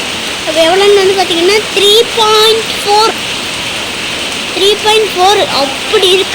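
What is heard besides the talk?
heavy rain falling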